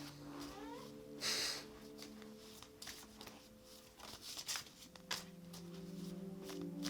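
A house cat moves around near a microphone during a quiet indoor tarot reading, making soft rustles, brief bursts and faint vocal sounds over a steady background hum, with no talk.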